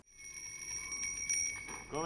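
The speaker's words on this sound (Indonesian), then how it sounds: "suara lonceng di malam hari inilah yang dulu sempat membuat takut para anak-anak di era 90-an" A small bell tinkles with bright, high ringing tones over steady background noise and faint talk.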